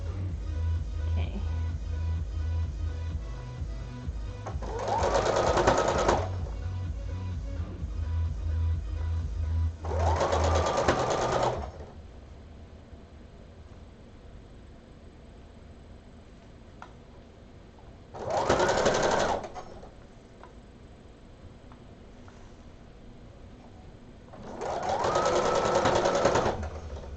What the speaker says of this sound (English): And then I'll also do it like a basting stitch.